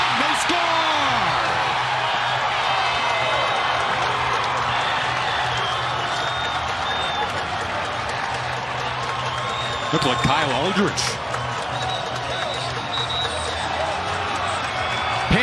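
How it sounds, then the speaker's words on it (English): A lacrosse crowd at a Johns Hopkins vs Penn State NCAA men's game roars steadily after a Penn State goal, loud cheering sustained throughout with a commentator talking over it. "Pandemonium! The crowd has woken up."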